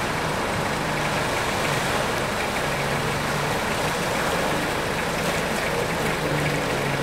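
An off-road vehicle's engine runs hard and steadily in a deep bog hole at Toolangi, a loud, continuous, rough low rumble with churning noise that holds for the whole stretch.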